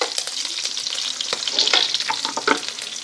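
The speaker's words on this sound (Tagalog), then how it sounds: "pwede na nating ilagay itong bawang at ilang gigisahin." Garlic sautéing in a pan with pork, a busy close sizzle of hot oil with scraping and stirring clatter across it. No voices.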